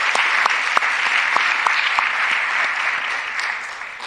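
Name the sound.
audience applause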